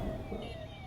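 Ambulance siren wailing amid heavy pre-Diwali traffic near ISBT Kashmere Gate, Delhi, a steady tone over a dense rumble of road noise, fairly loud throughout.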